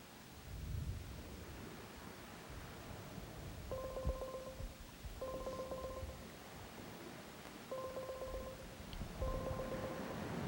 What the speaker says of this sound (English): Maybe I could sneak up some food while the phone's ringing.